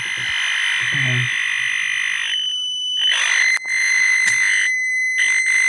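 A harsh, buzzing electronic tone from a Fort Processor synth with bad soldering drones and cuts in and out irregularly, with glitchy bursts and dropouts, loud and close with no talking.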